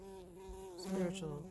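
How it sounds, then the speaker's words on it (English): A bumblebee buzzes close by, a steady droning hum that swells louder around the middle before settling, heard alone without speech. "ooh, the bee is back"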